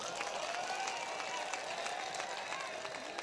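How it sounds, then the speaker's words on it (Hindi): Scattered audience clapping at an outdoor Hindi poetry recital (kavi sammelan) in Khategaon, a steady patter of many hands filling the whole stretch at moderate level, with crowd murmur underneath. "नहीं, ताली आपको भी बजाना है।"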